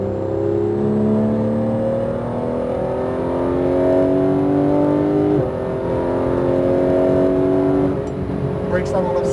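A Porsche GT3 engine revs hard under full-power acceleration on a racetrack, its pitch climbing steadily through the gears with a brief shift, loud and close, with a voice talking over it.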